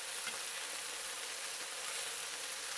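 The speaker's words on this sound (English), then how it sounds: "Look at that, that's what you want, nice searing." Velveted beef for kung pao sears in a very hot wok, giving a steady, loud, close sizzle that holds evenly throughout with no talking.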